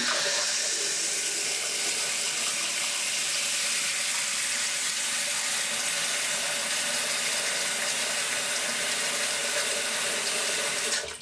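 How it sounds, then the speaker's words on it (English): Steady rush of water running and draining in a just-unblocked sink, a continuous broadband splashing hiss with no voices, close by and even in level throughout. "the water's going down there absolutely no problem at all"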